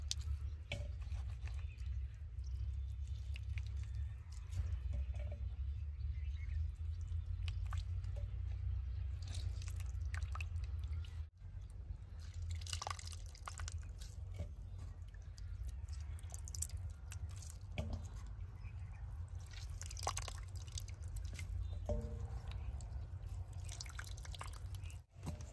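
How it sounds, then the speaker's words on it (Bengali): Lime water drips and trickles from squeezed ash gourd pieces in soft, irregular wet splashes and squishes, faint and close, with no voices. "চিপড়ে চিপড়ে চুনার জলটা ফালাই দেন রাখবো।"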